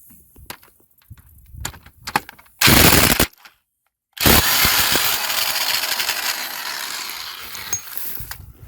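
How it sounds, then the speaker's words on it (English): A 1.8 engine in a Chevrolet Sonic LT has its old crank bolt loosened with a power tool: a short, loud rattling burst, a brief pause, then a longer, steady hammering run that slowly tapers off. "Now we can take off this old crank bolt."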